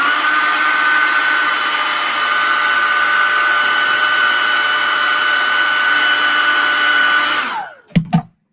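Blow dryer drying fresh paint on a model, a loud steady whirring blast held for about seven seconds before switching off, followed by two brief knocks.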